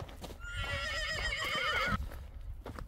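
A racing horse gives a clear, fairly close whinny lasting over a second, its wavering pitch rising and falling before breaking off, with faint hoof clops and outdoor background around it.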